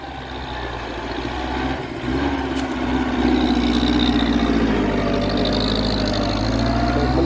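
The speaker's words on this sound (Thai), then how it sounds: "โอ้น่าจะมิดคันเร่งนะครับ คันเร่ง มิดคันเร่ง" A vehicle engine is pushed to full throttle and roars steadily and loudly nearby, growing stronger after a couple of seconds and holding a dense, rough drone to the end.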